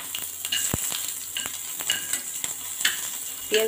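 Onions frying in a pan for chutney while being stirred, a soft continuous sizzle broken by scraping and clinking strokes of the spoon against the pan, fairly close.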